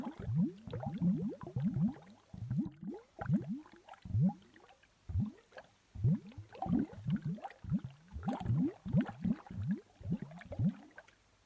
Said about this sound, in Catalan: Sentiu les bombolles?